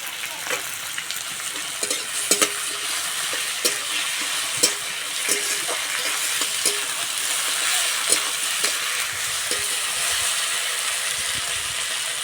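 Chopped tomato and ginger-garlic paste sizzle and fry in a pan while being stirred, a continuous close hiss broken by sharp scraping and clinking of the spoon against the pan, with no talking.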